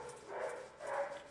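A bored dog barks twice somewhere in the house, faint and slightly distant, two muffled woofs roughly half a second apart with no talk over them.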